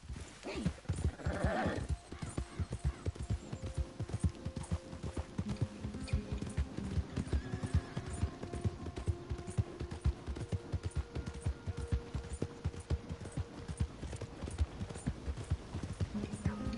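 Rapid, steady hoofbeats of a galloping horse in Red Dead Redemption 2 fill the clip, with a loud whinny near the start; busy, game-like layered sound throughout.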